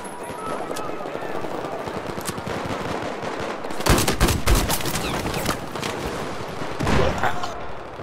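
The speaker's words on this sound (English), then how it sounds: "I love when somebody is rapid firing a DMR and you can hear it on your team" Rapid DMR gunfire in the Battlefield 4 video game, a quick string of sharp repeated shots arriving in bursts amid background battle noise, with a player talking over the sounds.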